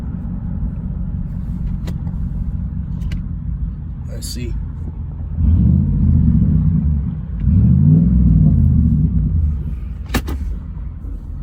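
Jeep fitted with a new aftermarket exhaust rumbles steadily while driving, with a deeper, louder swell of low engine drone midway as it pulls ahead, close to the cabin with the sunroof open, and a brief word spoken over it.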